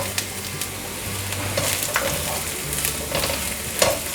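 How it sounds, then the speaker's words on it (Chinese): Ginger slices, carrot and king oyster mushrooms being stir-fried in a hot pan for a vegan home-style dish: a continuous close sizzle broken by scraping spatula strokes, with no talking. "把姜片煸香，把红萝卜放进来， 稍微略炒一下，现在放入杏鲍菇。"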